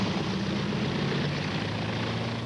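Vintage First World War airplanes droning overhead, a steady broadband engine and propeller roar with a low hum, continuous and fairly loud throughout without any voices.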